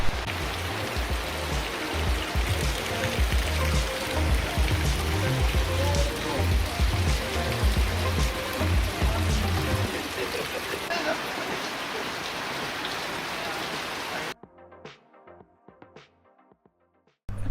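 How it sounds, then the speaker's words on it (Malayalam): Rain pours steadily during a motorcycle ride on the way toward the Pune highway, a dense hiss with low rumbling road and wind noise that cuts off abruptly near the end. "നമ്മുടെ യാത്രയുടെ ആദ്യത്തെ മഴ ലഭിച്ചതും ഈ രണ്ടാമത്തെ ദിവസം തന്നെയായിരുന്നു"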